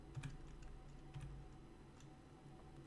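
Light computer keyboard typing, a few soft scattered keystrokes close by in a quiet room, with no talking.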